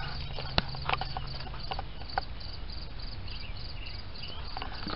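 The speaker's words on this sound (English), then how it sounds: "You hear that cricket?" A cricket chirps faintly and steadily outdoors beside a broken-down vehicle, accompanied by a low background rumble and a few soft knocks.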